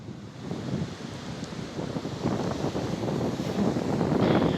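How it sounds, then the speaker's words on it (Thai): Sea waves washing onto Phala beach on Thailand's eastern Gulf coast after storm Pabuk, a soft, continuous surf wash that slowly grows louder, with wind rushing across the microphone. "ทะเลด้านหลัง"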